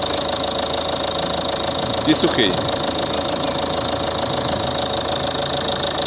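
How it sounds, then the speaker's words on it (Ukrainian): A 2009 Volvo V50 2.0 diesel idles with a steady, even clatter under the open hood, while someone talks briefly over it near the middle. "щоб зразу відкрити і показати, як працює двигун"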